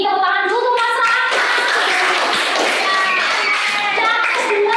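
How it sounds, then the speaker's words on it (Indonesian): Students in a classroom clap for a classmate, a steady patter of many hands running throughout and mixed with children's voices. "tepuk tangan dulu untuk Mas Ram."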